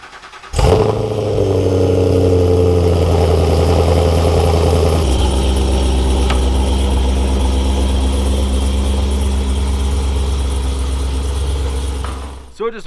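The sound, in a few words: Chevrolet Camaro ZL1 engine cold start and idling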